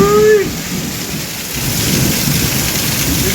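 Heavy rain pours down steadily on surfaces close by, and a low rumble of thunder rolls underneath it. A brief voice is heard at the very start.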